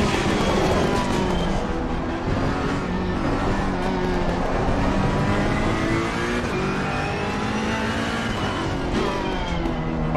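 Race car engine in Assetto Corsa Competizione, driven from the cockpit in poor visibility, drones loudly and steadily throughout with rising and falling revs and gear changes, no talk over it.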